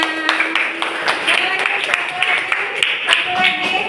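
A classroom of seventh-grade students claps for a classmate, a short burst of scattered, uneven hand claps close by, with some voices mixed in.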